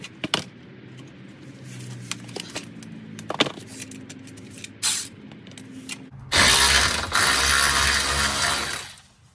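A ratchet works an oil pan bolt loose on a Dodge 6.4L engine, giving sharp metallic clicks and clanks, then a louder burst of spray-like mechanical noise near the end.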